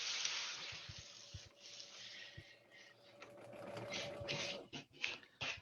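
A sewing machine stitches a trailing edge for an urban ninja build, running in steady bursts of fast whirring that start and stop, fairly close and loud, with no talk.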